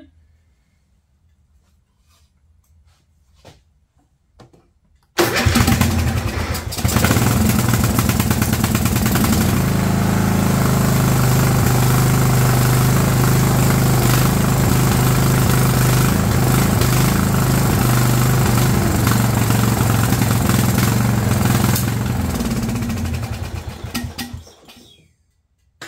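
An old Craftsman riding mower that needs a carburetor: after a few seconds of near silence, the engine catches and runs loudly and steadily for about twenty seconds before dying away.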